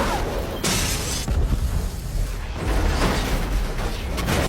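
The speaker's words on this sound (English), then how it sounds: "The sound of the explosion reverberated through the sky." A loud explosion at a residence rumbles and roars in sustained waves, with a sharp burst partway through and heavy low-end reverberation, and no voices.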